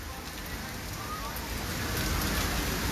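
Heavy rain pours steadily at Legoland Dubai, a dense, even hiss of falling water that holds constant and swells slightly louder toward the end, with no voices.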